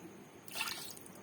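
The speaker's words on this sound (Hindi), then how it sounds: "यहाँ पे मैं डाल रही हूँ पानी" Water is poured into a cooking pot while making keema tinda, a brief soft splashing trickle that swells for about half a second and then settles into a faint liquid sound, quiet and fairly close.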